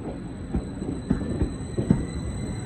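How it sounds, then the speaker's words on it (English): A passenger train rumbles past at close range at Ely, with a steady low roar and periodic rhythmic thumps of wheels over rail joints. "Very packed train indeed."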